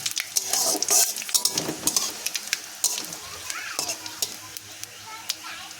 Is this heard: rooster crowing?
no